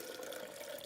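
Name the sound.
film developer chemical poured into sink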